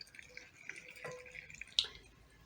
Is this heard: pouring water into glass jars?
yes